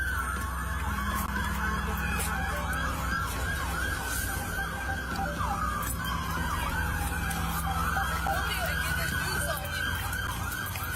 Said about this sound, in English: You hear all the lights and sirens?